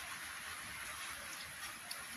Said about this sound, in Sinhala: අද නම් වැස්ස මාර විදිහට. වහිනෝ ඉවරයක් නැහැ ඉතින්.